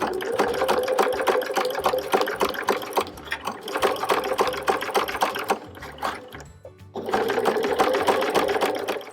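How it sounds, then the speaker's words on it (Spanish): A sewing machine stitching fabric, a fast steady mechanical rattle close up that runs continuously, pauses briefly near the middle, then resumes at full speed. "empezamos a coser justo en este punto donde está la marca que hemos hecho"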